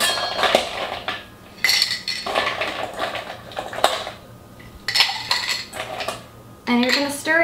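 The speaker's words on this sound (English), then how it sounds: "you're going to add your ice." Ice cubes clink and rattle into a cocktail glass for a Boulevardier in several sharp bursts, bright glassy knocks separated by short pauses, close and fairly loud.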